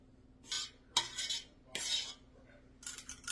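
A utensil scrapes and taps in short bursts as topping is spread over a blueberry cake in a large baking pan, four separate strokes with brief pauses between them, close and fairly quiet.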